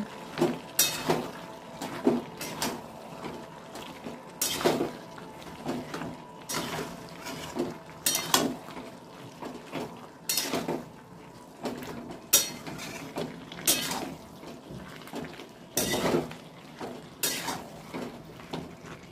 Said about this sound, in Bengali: দিয়ে মাংসের সঙ্গে কষিয়ে নেব।